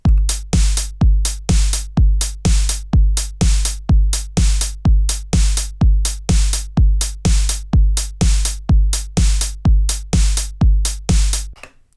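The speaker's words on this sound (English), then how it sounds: "I'm after that kind of bounce that goes back and forth between the kick drum and the hi-hat" A steady, looping drum beat alternates punchy kick drum hits with crisp hi-hat ticks in an even bouncing rhythm, loud and close with no voices.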